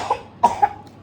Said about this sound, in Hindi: खांसी हो रही है इसके बहुत तेज, दवाई भी नहीं लेती है।